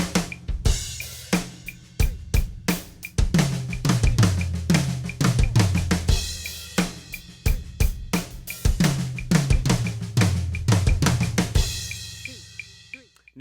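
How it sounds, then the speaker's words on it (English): A drum kit plays a flammed fill spread across toms and snare, with rapid doubled strokes dropping down the toms in repeating phrases, loud and close with cymbal accents and no talking. "let's just add our tom snare orchestration for all the flams"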